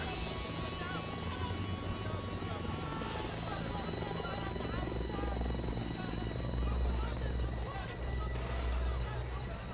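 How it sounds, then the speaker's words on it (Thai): Helicopter in the game Delta Force: Black Hawk Down, hovering while troops rope down under RPG fire. A continuous, loud rotor thrum with a droning whine runs steadily beneath game noise throughout. "หลังจากที่เฮลิคอปเตอร์มันโยกหลบ RPG ในระหว่างที่เขากำลังโรยตัวลงมา"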